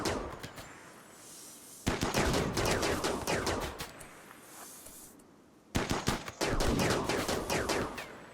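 Repeated volleys of gunfire in the RimWorld colony game, sharp rapid shots in tight bursts separated by brief quieter gaps, loud and close with no talking.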